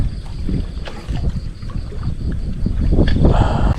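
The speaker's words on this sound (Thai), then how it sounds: "ลมแรงๆแบบนี้" Strong wind buffets the microphone outdoors at a freshwater fishing spot, a steady, loud rumbling roar with gusting surges that grow toward the end.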